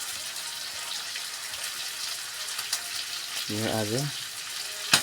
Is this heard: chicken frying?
yes